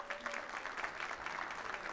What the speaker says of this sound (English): Can we just take a second to give Mike Wozniak a round of applause?